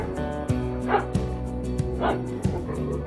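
A dog barks and yips in short, repeated bursts, several sharp barks mixed with whimpers over a steady musical background, close and fairly loud.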